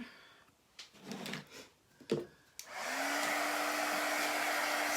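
A hair dryer used to dry chalk paste on autumn pumpkin and gourd cut-outs starts after a few clicks and handling noises, then blows in a steady, loud, close whir.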